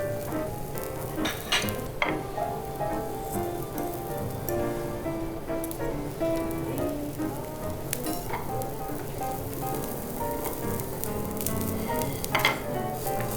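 Mushrooms sear on a teppanyaki griddle at the Park Hyatt Kyoto, making a steady close sizzle broken by occasional sharp pops, with no talking.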